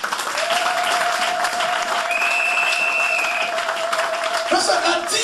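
A church congregation claps and cheers continuously at a steady, full volume throughout, with a sustained tone and scattered voices mixed into the applause.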